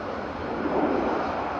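Aircraft landing at Manchester Airport during Storm Amy, a steady broadband engine roar heard from a distance and fairly constant, with no talk.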